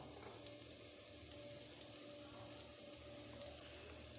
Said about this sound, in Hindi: पैन में मैंने ऑयल को गर्म कर लिया है। यहाँ पर मैं प्याज शामिल करता हूँ।